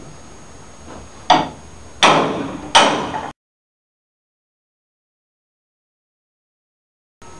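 A hammer strikes a wooden block three times, sharp, solid knocks about a second apart, each ringing briefly, followed by silence.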